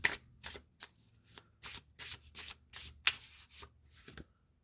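Tarot cards being shuffled by hand before drawing an astrology card: a run of about ten crisp, papery riffles and slides in quick bursts with short pauses, close and clear, fading out at the end.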